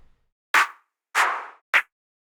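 Three separate clap samples play one after another, each a sharp snappy burst; the middle one rings a bit longer than the others.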